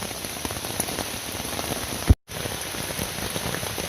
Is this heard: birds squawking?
no